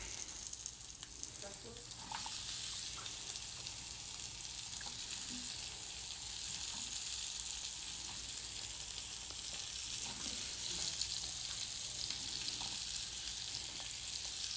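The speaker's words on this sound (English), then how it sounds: "And now we're putting the onions." One large onion sizzles and fries in a pan, a steady hiss of crackling oil with small pops and a few clinks throughout, close and continuous with no talk.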